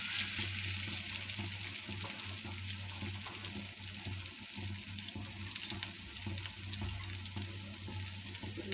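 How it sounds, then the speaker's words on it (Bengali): Chicken pieces coated in gram flour batter fry in hot oil, a steady dense sizzle and crackle running throughout at close range with no voices. "বেসন দিয়ে ভেজে নেই প্রত্যেকটা।"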